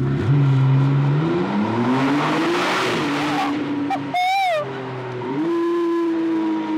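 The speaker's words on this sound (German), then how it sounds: "Sollen wir da ganz langsam reinfahren und dann mal Gas geben?" A 700 hp McLaren Artura Spider engine roars loudly in a tunnel, its pitch climbing and falling through gear changes with a reverberant, enclosed echo; a brief high whine cuts in midway.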